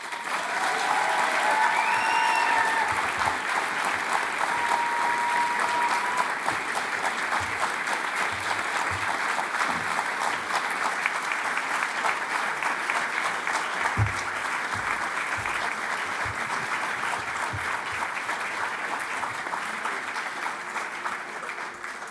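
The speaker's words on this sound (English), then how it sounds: "please join me in a round of applause for yourselves and the fantastic teaching support" Sustained applause from a graduation audience at an Institute of Business and Innovation ceremony, steady and dense for over twenty seconds, gradually thinning slightly toward the end.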